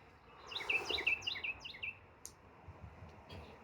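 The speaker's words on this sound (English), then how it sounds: "And you hear them birds singing this morning?" Birds sing in the morning outdoors, a short run of bright, high chirps for a couple of seconds, followed by scattered quieter calls over a faint, hissy background.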